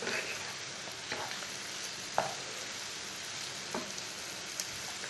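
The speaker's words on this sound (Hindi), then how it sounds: "दो मिनट तक मैंने मसालों को भून लिया है।" Spices roast in a pan for bhindi masala, giving a soft, steady sizzle. A few quiet scrapes and taps of a spoon sound over it.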